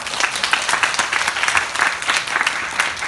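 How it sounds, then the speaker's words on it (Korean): An audience at a network marketing business talk applauds with dense, lively clapping that holds steady for a few seconds and is heard alone. "박수 한번 치시죠."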